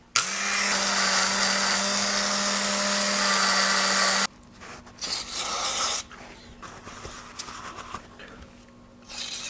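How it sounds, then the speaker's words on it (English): A Dremel rotary tool spins a brass wire brush against spark plug wire conductors, a loud steady high-pitched whir for about four seconds, followed by quieter intermittent scraping and handling sounds. "I'm just going to hit them really quick with that brass brush and my Dremel"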